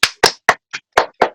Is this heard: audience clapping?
yes